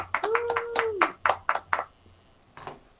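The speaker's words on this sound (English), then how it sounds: "let's hear a huge round of applause for Joshua Schindler" A few isolated hand claps at a school district board meeting held remotely, sparse and uneven sharp slaps close to the microphone with a brief tonal beep mixed in, fading after a couple of seconds.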